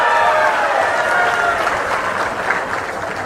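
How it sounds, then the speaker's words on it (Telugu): Crowd at an Andhra Pradesh political rally breaking into loud applause, dense clapping that stays strong and gradually eases off over a few seconds, with some voices mixed in. "అన్యాయం అంటే గట్టిగా చప్పట్లు చెప్పండి"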